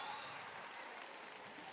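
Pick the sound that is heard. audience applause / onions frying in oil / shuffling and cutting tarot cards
audience applause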